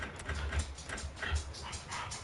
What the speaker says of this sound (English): No barking. I'm on a stream.